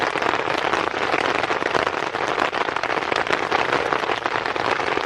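Rain pours onto a tent covered by a tarp in monsoon weather, a loud, continuous, crackling patter right overhead, unbroken from start to finish with no voices.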